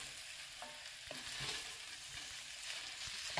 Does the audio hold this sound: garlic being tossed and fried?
yes